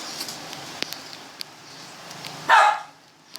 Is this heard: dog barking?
yes